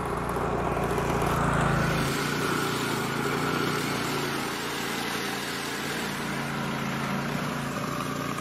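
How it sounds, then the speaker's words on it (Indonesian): Motorised grinding machine shredding a sago palm trunk into powder, a steady loud mechanical drone throughout with a heavier rumble at the start that settles into a continuous buzzing hum. "Digiling menggunakan mesin. Ini adalah proses menggiling serbuk sagu itu sendiri."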